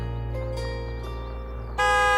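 A car horn sounds in a long sustained tone that jumps louder and brighter near the end.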